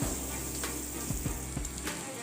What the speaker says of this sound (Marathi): इथे लसणाचे काप करून घेतलेत मी हे टाकून घेऊया लसूणाचा तांबूस होईसपर्यंत भाजून घ्यायचा